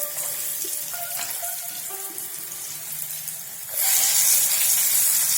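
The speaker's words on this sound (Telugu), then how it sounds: "ఇప్పుడు మనం వీటిని ఫ్రై చేసుకోవాలి." Salla mirchi, curd-soaked chillies, frying in hot oil in a pan, a steady close crackling hiss that surges louder toward the end.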